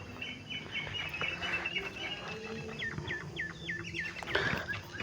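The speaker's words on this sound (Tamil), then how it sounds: "நான் தோட்டத்தில் இருக்கிறதுனால குயில் சத்தம்லாம் கேட்கும்" An Asian koel calls in a garden, giving a quick series of repeated rising whistled notes at moderate distance, with other bird chirps and outdoor background noise around it.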